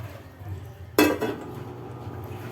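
Mung beans go into a cooking pot of simmering monggo in one quick pour, landing as a sharp clatter and rattle that fades over about half a second against a low background hum.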